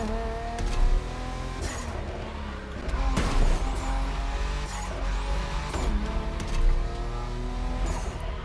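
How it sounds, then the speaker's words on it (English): A Nissan GT-R widebody in the racing game The Crew Motorfest roars steadily, with loud whining turbo tones climbing and dropping as it accelerates and shifts off-road, plus occasional tire scrubbing. "Turbos are a bit loud though, aren't they?"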